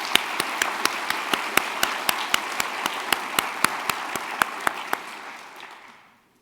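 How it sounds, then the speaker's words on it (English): Audience applause at a university lecture for a general, a dense bed of clapping with sharp, regular nearby claps standing out, gradually fading away toward the end. "So I would like a round of applause for General Myers."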